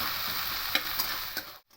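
Chickpeas sizzle in a pan with onion and garlic that were browned first, a continuous frying hiss broken by a few sharp stirring scrapes before the sound cuts off abruptly near the end.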